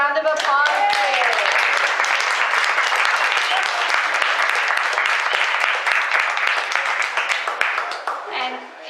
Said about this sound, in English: Could we have another round of applause, please?